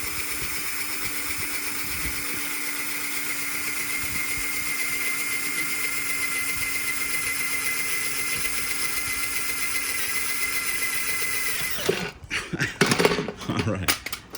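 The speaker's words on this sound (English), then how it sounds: "Oh, the drill's gonna die." A power drill with a dying battery whines at a steady high pitch for about twelve seconds while drilling copper bars, then cuts out, followed by a few loud knocks and clattering handling noises.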